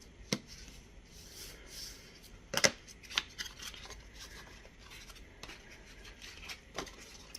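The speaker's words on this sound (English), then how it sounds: "we are going to create another valley fold here" Paper being creased into a valley fold for a handmade mini book cover, giving a few quiet, close rustles and sharp crisp presses scattered among long soft pauses.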